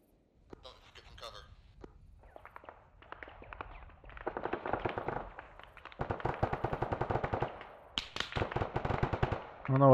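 Machine gun fire in ARMA 3, starting with sparse distant shots and building into rapid, loud automatic bursts that grow denser and closer over ten seconds.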